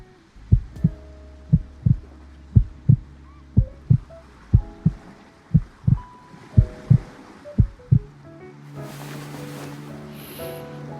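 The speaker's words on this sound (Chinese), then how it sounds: "要不要把耳朵贴上来，听听我的心跳？" A slow, steady heartbeat thumps about a dozen times, deep and close with even spacing, in a romance game scene, before soft music swells in for the last few seconds.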